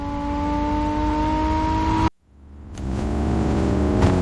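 An AI-generated car engine revs steadily in traffic, then cuts out abruptly before the engine noise swells back with a whirring rise, with no voices.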